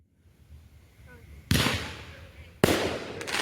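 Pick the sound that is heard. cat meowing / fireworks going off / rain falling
fireworks going off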